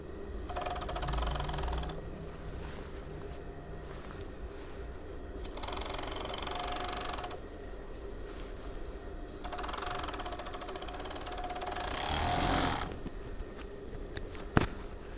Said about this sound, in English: So you're only wanting to obviously overlock just the two seams together.